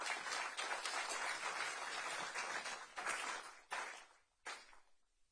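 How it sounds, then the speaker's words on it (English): An audience at a news briefing in Texas claps steadily for several seconds, the applause thinning into a few scattered final claps. "Can we give our community a round of applause,"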